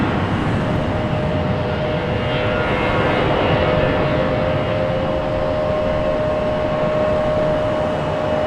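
A Delta airliner taxis at Raleigh-Durham airport, its steady engine roar and whine holding loud and constant throughout with no talk.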